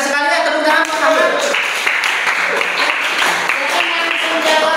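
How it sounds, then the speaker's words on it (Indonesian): Classroom applause for a student named Ahmad after an answer about sermons, a steady broad clatter of clapping lasting the whole stretch with some voices mixed in. "tepuk tangan buat Ahmad"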